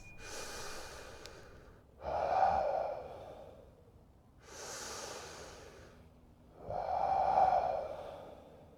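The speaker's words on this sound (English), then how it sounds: "Take a deep breath. Let go." Slow deep breaths during a guided breathwork meditation, four long airy phases alternating inhale and exhale, each about two seconds, close and fairly quiet with no talking.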